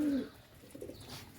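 Pigeons kept in a loft giving soft, low cooing calls, one clear coo at the start followed by fainter murmurs nearby, with no talking.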